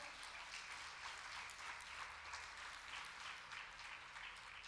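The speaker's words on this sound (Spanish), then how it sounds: "Le regala palmas con fuerza al Señor" A church congregation clapping their hands for the Lord, a dense continuous patter of many hands from across the room, fairly faint and steady throughout.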